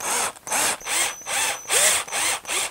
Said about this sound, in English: I'm going to use this 5/16 bit to get this hole drilled.